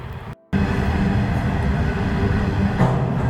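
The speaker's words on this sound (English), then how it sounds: "there's a big goods train going across over the top of me" A heavy goods train rumbles past close by on a bridge overhead near Maitland railway station, New South Wales, a continuous low roar with rattling of wagons after a brief drop at the start.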